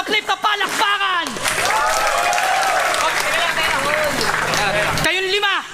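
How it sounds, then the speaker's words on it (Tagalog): A crowd at a Filipino rap battle breaks into sustained applause and cheering, loud and dense for several seconds, with voices talking and shouting before and after. "Lahat ng nagmamahal sa flip na palakpakan."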